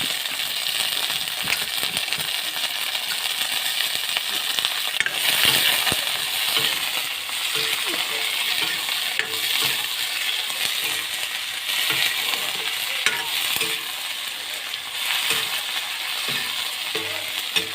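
Amita flowers and potato pieces frying in a wok: a steady, moderately loud sizzle with scattered clinks and scraping throughout, no speech.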